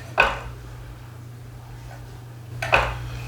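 A pan set down on a stovetop for heating olive oil gives two sharp metallic clanks about two and a half seconds apart over a low steady hum, with no talking.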